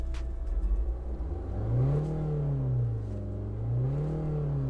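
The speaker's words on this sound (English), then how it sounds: "So let me rev the engine" A Tata Nexon BS6 SUV engine idles and then revs twice, each rev a smooth rise and fall in pitch. It is heard close up with no talking.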